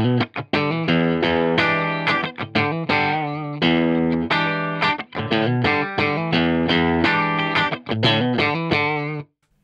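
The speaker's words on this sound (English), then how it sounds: "First off, I'm going to start with the CE1 preamp bypassed" Electric guitar through a JFX Empyrean pedal with the CE1 preamp bypassed, a continuous run of overdriven notes and chords, loud and close, with no talk.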